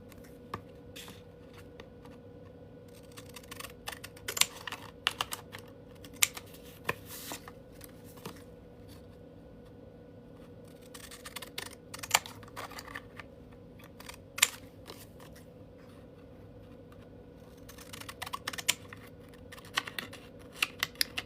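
Scallop-edge scissors snip through paper card in short crisp bursts, quiet and close, with rustling handling between cuts and no talking.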